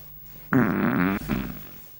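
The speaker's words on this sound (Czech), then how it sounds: "teď jste nám slíbil, že tady nebudete dneska prdět" A loud, buzzing fart ripples for about two-thirds of a second, then a shorter, softer follow-up trails off during a comedy debate sketch.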